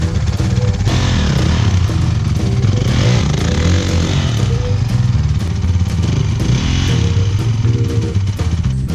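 Dirt bike engine revving hard in a forest, loud and close, the pitch rising and falling in repeated throttle bursts over a constant rough drone.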